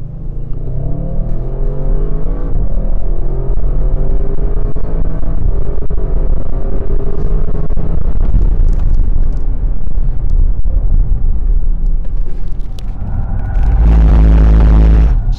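An Audi RS6 engine pulls hard under acceleration, a loud, close, continuous rising roar with climbing gear tones and a heavy low rumble that surges again near the end.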